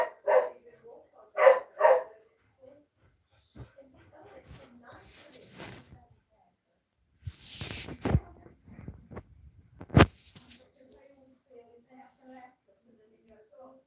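A dog barks in a couple of close, loud bursts at the start of a live séance, followed by quieter clatter, sharp knocks and people talking.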